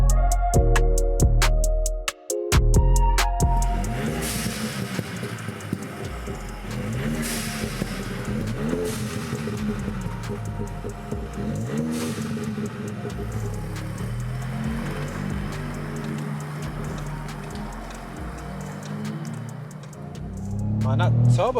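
A VW Up GTI with a 1.0-litre turbocharged engine accelerating hard through the gears, the engine note rising and falling with each shift and a steady road drone beneath, heard from inside the cabin.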